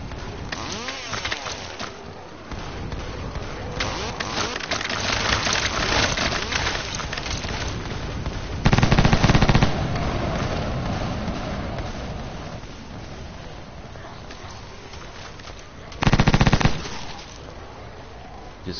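Rapid, sustained machine gun fire in the video game Blood Waves, loud and close, running almost continuously with two sharper, louder bursts standing out partway through.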